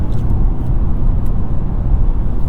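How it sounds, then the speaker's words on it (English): Steady road noise inside a 2022 Nissan Kicks cruising at about 55 mph, a loud continuous low rumble with a faint engine drone and no talking. "There's a good amount of road noise."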